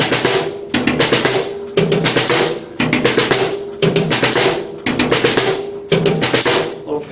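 Floor tom and tom-tom are struck in a repeating drum fill, quick bursts of hits in rhythmic groups with crashing cymbal wash, loud and close.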